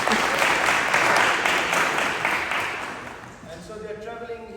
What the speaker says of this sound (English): let's give them a big round of applause first